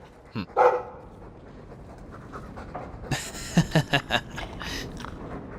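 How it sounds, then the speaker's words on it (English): A dog in the Dragon Age 2 video game pants heavily, then lets out a quick series of short barks and yips, close and clear. "My own living, breathing, slobbering status symbol."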